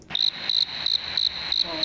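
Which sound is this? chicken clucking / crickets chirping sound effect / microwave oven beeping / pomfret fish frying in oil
crickets chirping sound effect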